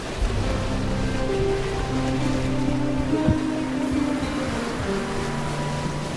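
Ocean waves wash steadily in the VR sailing game Sail, a constant full-bodied surf and water rush with faint tonal hums beneath, continuous and alone.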